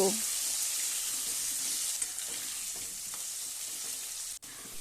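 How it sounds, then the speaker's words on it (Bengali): Potatoes fry in hot oil with a little turmeric, giving a loud, even sizzle that fills the whole stretch, with faint stirring clatter and a brief dip near the end. "এবার আলুগুলোকে আমি নাড়িয়ে চাড়িয়ে লাল লাল করে ভেজে নেব"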